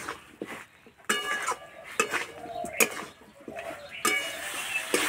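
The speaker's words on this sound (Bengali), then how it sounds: "এই মশলার সঙ্গে ভালো করে কষিয়ে নেব" Young jackfruit stir-fried with spices in a pan, heard as repeated scraping and clinking of a spatula against metal, with a soft sizzle underneath and a voice speaking at moments.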